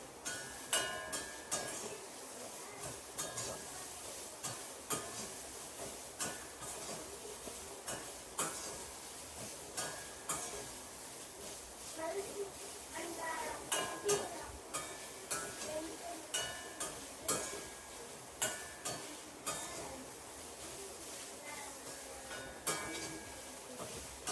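Radish fries in a heavy pan while a utensil stirs it, giving repeated scraping clinks of metal on metal over a steady soft sizzle for a long stretch, close and moderately loud.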